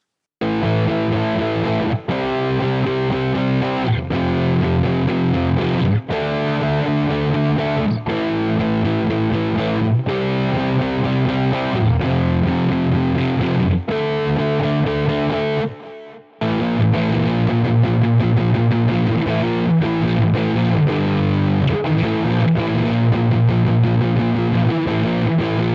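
Heavily distorted high-gain electric guitar run through a Neural DSP Tim Henson amp plugin, playing dense sustained chords and riffs loud and close, with a brief near-silent break around the middle before the riffing resumes.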